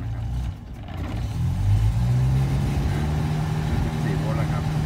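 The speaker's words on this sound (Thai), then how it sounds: "นี่เป็นแค่รอบเดินเบานะครับจะลองเร่งให้ดูนะครับ" A petrol car engine idling, then revved up to a louder, higher, steady drone that holds near and continuous; someone talks over the start.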